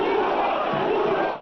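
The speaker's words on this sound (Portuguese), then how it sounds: "a torcida protestou contra o técnico Léo Condé" Football supporters at Curuzu stadium during a Brazilian Série C match, a dense roaring crowd protesting the coach, loud and sustained, fading out at the very end.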